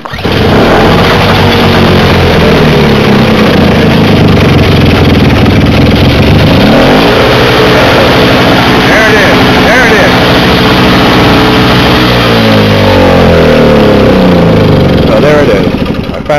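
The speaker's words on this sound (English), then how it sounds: "Let's get it on the choke, and then let's get it started up." A rebuilt Tecumseh small engine runs loud and close, chugging and revving with shifting pitch throughout, and a voice talks over it.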